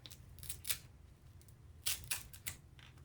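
Coaster base material being cut by hand, a few sharp snipping and crisp cutting sounds in irregular clusters, close and fairly quiet over a low background hum, with no talk.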